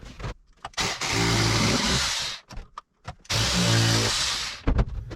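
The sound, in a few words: power drill drilling holes in wood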